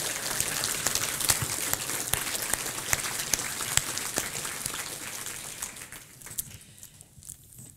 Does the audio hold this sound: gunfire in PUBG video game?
no